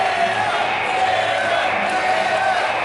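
A pro wrestling crowd in an arena keeps up a steady, continuous roar of cheering, with scattered whoops rising out of the noise for the whole stretch.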